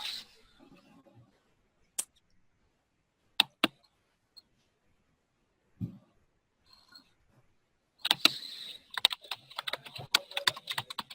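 Typing on a computer keyboard: a few sparse, isolated key clicks separated by quiet gaps, then a quick dense burst of rapid keystrokes near the end, close and fairly soft.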